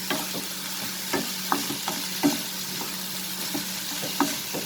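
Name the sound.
paneer stuffing sautéing in a pan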